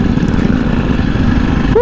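A motorcycle engine rumbles loud and steady up close on a group ride, its exhaust droning continuously, with a brief rising whine near the end.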